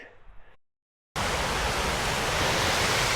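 A steady, loud, broadband roar of mountain waterfalls and cascades fills the air close by, rushing alone without a break after a brief quiet moment.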